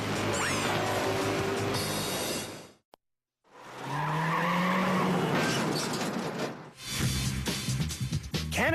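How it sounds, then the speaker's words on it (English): A car from a driver-training course skids through a full 180-degree J-turn, tires squealing loudly under a revving engine, then a brief near-silence before the engine and tire noise return. "we'll see if Dale and Lance can do a full skidding 180"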